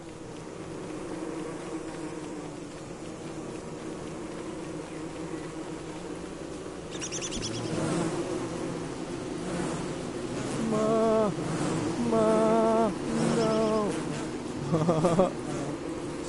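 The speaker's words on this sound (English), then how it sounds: "So many killer bees are after me." Killer bees buzz in the Don't Starve video game, a steady insect drone that swells and wavers over a constant background hum, while someone talks briefly.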